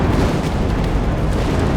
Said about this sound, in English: Massive explosions.